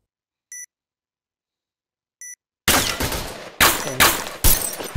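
Two short high electronic beeps of a planted bomb in Point Blank, spaced well apart over near-silence, followed by a burst of loud rapid gunfire.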